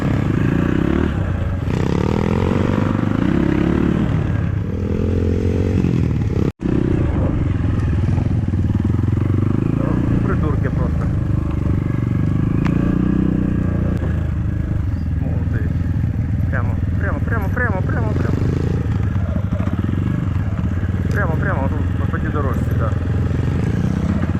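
A KAYO TSD 110 enduro bike rides on a dirt training track, its small engine droning and revving under steady spoken coaching, with clattering and scraping throughout and a sharp knock partway through.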